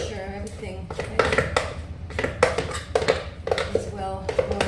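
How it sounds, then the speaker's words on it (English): Chocolate cake batter for sugar-, dairy- and gluten-free molten chocolate cakes is mixed in a bowl, with repeated clinks and scrapes of a utensil against the bowl in an uneven rhythm, close by, while a person talks over it. "I mix it a little bit more to make sure everything"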